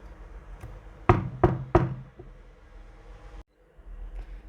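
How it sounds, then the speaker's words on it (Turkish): Three loud, sharp knocks on a door in quick succession, close and distinct against a quiet, faintly noisy room. "uyuduktan sonra da kapı bir anda çalar"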